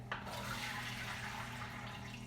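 Water poured off diced potatoes into a sink, a steady close rush of draining liquid that runs throughout with no speech.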